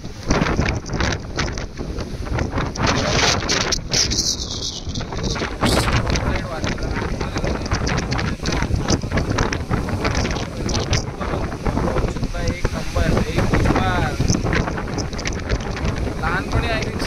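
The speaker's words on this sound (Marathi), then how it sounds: "एवढा वारा आहे ना, एवढा वारा की माणूस उडून जाईल." Powerful gusts of wind roar straight into a handheld phone microphone at a hilltop viewpoint, a loud, constant low buffeting with harsh rumbling bursts, while a voice talks underneath throughout.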